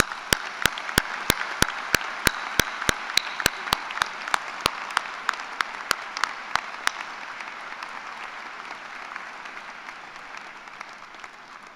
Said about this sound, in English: we'll now give a round of applause for Mark as he goes.